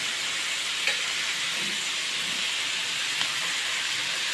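Green chillies added to vegetables, carrots and leafy greens, frying in ghee, giving a soft continuous sizzle and hiss with a couple of faint clicks from stirring.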